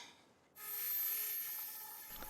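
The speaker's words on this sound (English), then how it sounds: "Let's do some sanding and see what it looks like." Sandpaper of 180 grit rubs by hand across the wood veneer of a Victorian sideboard, a quiet continuous rasp starting after a brief near-silence.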